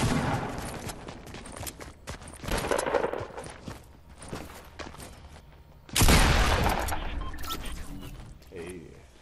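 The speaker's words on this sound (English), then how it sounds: "They're shooting me." Gunfire in the Fortnite video game, with dense bursts of rapid shots and a loud volley near the end, mixed under excited talking from players.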